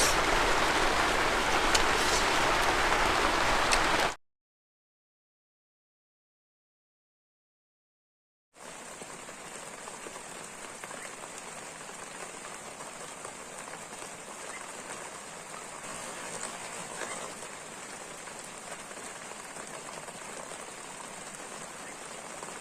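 Heavy rain pours down as a loud, dense hiss for several seconds, then after a silent gap returns as a softer, steady patter.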